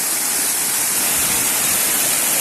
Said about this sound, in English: And there you have the forest waterfall.